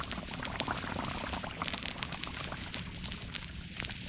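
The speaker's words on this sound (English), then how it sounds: "the flakes melt into a soft, frothy mass of bubbles" Lux soap flakes melting in running water into a frothy mass of suds, giving a steady, dense fizzing and crackling bubble noise throughout, fairly close and even in level with no voices.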